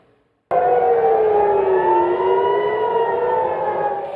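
A loud air raid siren in Israel, warning people to take cover in bomb shelters, starts abruptly and wails steadily, its pitch dipping slightly and then rising again.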